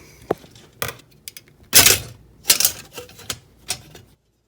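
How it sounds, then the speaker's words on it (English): Metal frame being worked off an old Remington Rand typewriter: a series of sharp, close clanks and rattles, irregularly spaced, with a loud cluster of metallic scraping clatter in the middle and quiet pauses between. "Now the frame pulls right off the typewriter."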